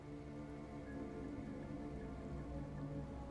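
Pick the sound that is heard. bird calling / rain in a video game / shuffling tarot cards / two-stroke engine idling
rain in a video game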